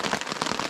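Heavy rain falling on a woodland hammock camp, a dense, close patter of drops striking surfaces with brief sharper taps.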